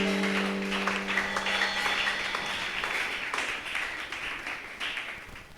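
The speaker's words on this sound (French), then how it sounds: "Applaudissons l'Éternel très fort." A church congregation claps together in praise during a faith and power-of-the-word seminar service, a dense steady applause that holds loud from start to finish, with a sustained musical tone underneath at first.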